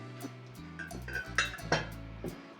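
A metal spoon scrapes and taps against a small bowl holding vinegar in a few short, sharp strokes, close and fairly quiet.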